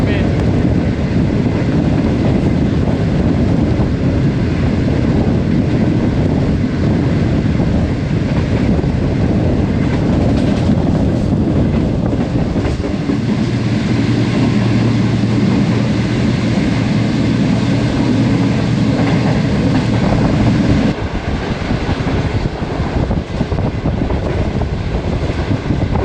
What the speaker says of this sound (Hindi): ट्रेन हमारी छांगामांगा रेलवे स्टेशन से पास थ्रू हो रही है